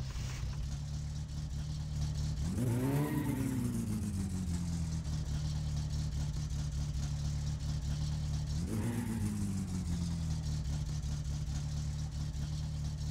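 Car engine in My Summer Car revving on a dynamometer, with two sharp rising revs over a steady loud idle drone, the second rev shorter, no talking.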